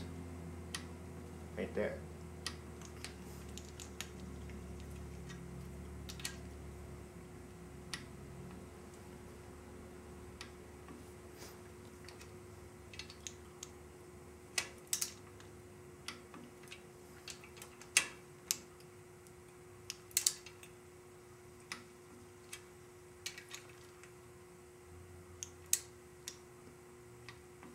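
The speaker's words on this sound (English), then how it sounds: "you're not going to hear as loud a click as you did when I did the head bolts" A torque wrench tightening smaller bolts on an engine during head gasket work gives off scattered sharp, light clicks, growing more frequent in the second half, while a steady hum sits underneath and someone speaks briefly.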